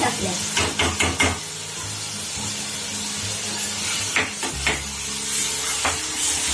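Masala paste fries in oil in a pan, giving a steady soft sizzle. Two brief clusters of quick scraping stirs break in, one near the start and one later on.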